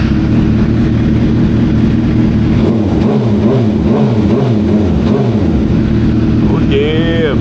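A Suzuki GSX-R 750 sport bike engine runs steadily at idle with a loud, even mechanical drone, a few slight swells in pitch mid-way, and a short squeaky sound near the end.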